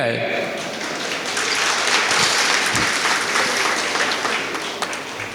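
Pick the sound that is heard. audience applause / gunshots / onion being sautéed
audience applause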